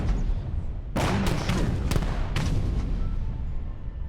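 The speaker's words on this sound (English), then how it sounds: "More and more cannons going off" Cannon fire in Age of Empires III Definitive Edition: a cluster of sharp booming shots in quick succession, mixed with battle noise over a dense, steady rumble.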